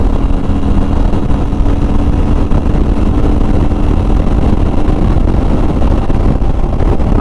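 Honda Shadow motorcycle held open in 4th gear on a ride, a steady loud low engine drone with wind buffeting across the microphone, no clear rise in pitch throughout.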